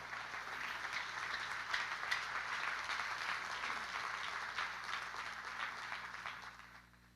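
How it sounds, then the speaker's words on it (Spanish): A Spanish-language church congregation gives Jesus a morning round of applause: a soft, dense wash of many hands clapping at a distance that holds steady, then fades out near the end. "Denle aplauso a Jesús en esta mañana."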